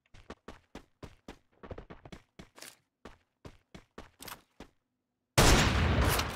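Gunfire in the Free Fire battle game during a Clash Squad finals match: a rapid run of sharp, separate shots in uneven bursts, then a pause and a loud, sustained blast of noise at the end, with no talking.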